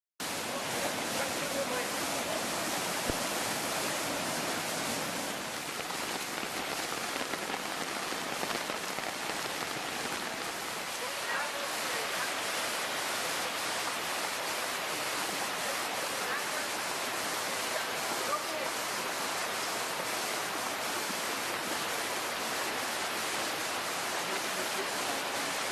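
Floodwater from unexpected meltwater rushes through a German city in a continuous, loud, even roar of churning water that stays unbroken from start to finish.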